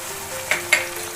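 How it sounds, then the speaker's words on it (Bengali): Onion fries in a pan as ginger and garlic paste go in, a steady close sizzle with two brief bursts of stirring, no talking. "পেঁয়াজটা হালকা ভাজবো আর এবারে আমি আদা বাটাটা আর রসুন বাটাটা দিয়ে দিচ্ছি"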